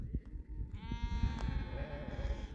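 Startled sheep in a flock on a high pasture let out a few drawn-out bleats, nearby and clear over a low rumbling background.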